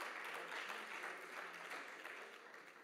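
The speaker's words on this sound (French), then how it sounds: "nous pouvons applaudir les brigades régionales de sécurité pour leur action au quotidien" Applause ripples through a regional council chamber in a short, steady burst of many hands clapping at moderate distance.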